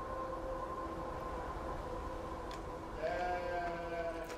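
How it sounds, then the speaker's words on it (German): Sheep bleat in the video game Beyond Two Souls, a few wavering calls rising over a steady ambient background toward the end, fairly close and moderately loud. "Hier gibt es Schafe."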